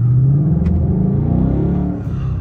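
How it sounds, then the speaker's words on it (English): A Ford Mustang GT with a 5.0 V8 rumbles through a brief rev match, its exhaust loud and deep with a quick throttle blip and falling engine note, heard up close from inside the car. "A little rev match right there."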